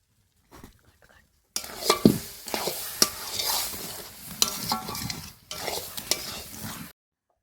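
Fried spice paste is stirred into tamarind pickle in a pan at close range, with scraping, sticky stirring strokes and a soft sizzle in bursts, cut by brief silent gaps.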